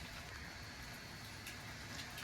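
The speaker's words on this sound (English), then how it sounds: "it's pouring raining outside" Heavy rain pours down outdoors in London, a faint, steady broadband wash of drops with no breaks over the short stretch.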